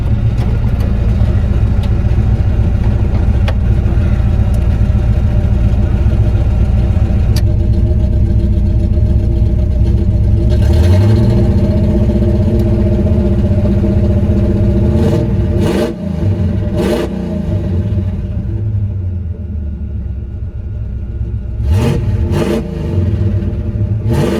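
A 1984 Camaro engine runs with a shudder, a loud close rumbling drone that holds steady with a rough, uneven pulse and a few sharp clattering knocks near the end.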